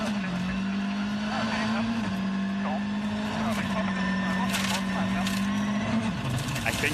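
A VW Polo rally car drives flat out at a WRC 2 shakedown at Rally Finland 2021, its engine loud and sustained with steady high revving, under commentary talk.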